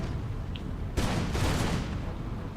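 Artillery fire during a battle in the Austria DMUC video game: one sharp, fairly loud boom that rumbles and fades over about a second, with no talk.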